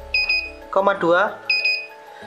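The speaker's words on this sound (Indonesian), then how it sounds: "ada suara buzzer yang menandakan bahwa ini baterai lemah" The low-battery warning buzzer of a DIY 300VA UPS built around an ATmega16 controller sounds two short, shrill electronic beeps, with someone speaking briefly between them.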